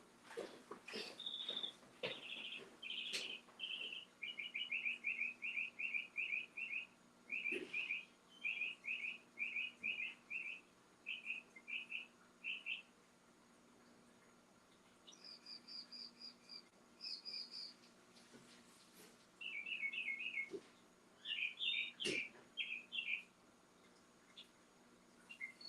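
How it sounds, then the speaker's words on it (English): Birds calling outdoors on a morning in a garden, repeated bright chirping phrases in bursts from a few birds at a moderate distance, with a faint steady insect-like background and no talk. "The birds out here are extremely vocal. They are loud this morning."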